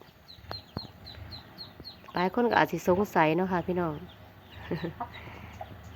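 A hen raising ducklings clucks and chirps softly in short repeated calls while someone talks over it in the foreground.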